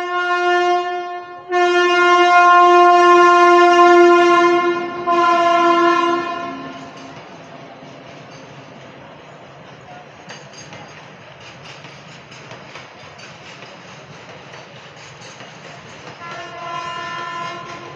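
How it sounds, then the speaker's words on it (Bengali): A train approaches with a loud, sustained horn blast, then a second shorter one, followed by the rumble and clatter of the cars rolling past nearby, with the horn returning faintly at the end. "এই ট্রেন আসছে, সরে যাও।"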